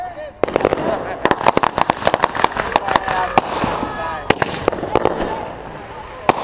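Consumer firework cake at a Fourth of July backyard show fires a rapid string of sharp pops and cracks, loud and close, with people talking and shouting throughout.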